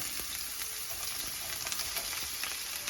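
Green peppers, onion and mushrooms sizzling in olive oil in a pan on a preheated stove, a steady close hiss with scattered crackles and faint stirring sounds, no voices.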